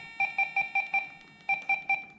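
A Deus 2 metal detector threshold tone being lowered, a series of eight short, clear electronic beeps in an even rhythm with a brief pause in the middle.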